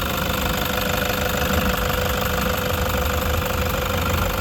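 A Toyota Hiace diesel engine idles close by with a steady, loud knocking clatter and constant vibration, continuous throughout with no voices.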